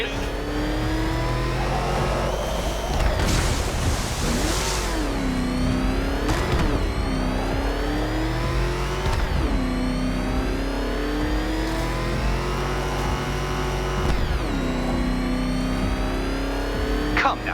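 A ramshackle car engine in Batman: Arkham Knight revs continuously and loudly, its pitch climbing and falling in repeated surges with gear shifts across the whole stretch.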